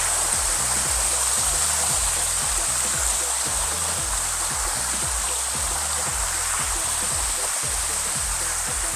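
Waterfall in Chiang Mai, Thailand, its water pouring down in a steady, dense rush that stays loud and unbroken throughout, with no voices over it.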